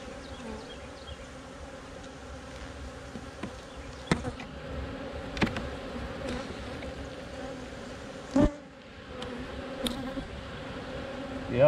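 Honey bees buzz steadily throughout an October hive inspection, a dense close drone with occasional louder passes of individual bees near the frames of a brood-filled top box.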